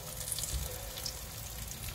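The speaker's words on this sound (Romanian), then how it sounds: "Mai întâi luăm fiecare copănel, trecem prin făină și punem la prăjit." Chicken drumsticks dredged in flour sizzle and crackle in a pan of olive oil, a steady close frying hiss with small pops throughout and no speech.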